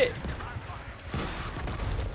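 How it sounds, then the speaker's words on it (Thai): Artillery shells bursting during a Battlefield V match, a sharp blast followed by rumbling battlefield gunfire and another impact, loud and close amid the game's chaotic combat noise. "ปืนใหญ่ลงตรงหัว"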